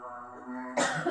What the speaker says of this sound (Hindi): छिड़ गई खांसी।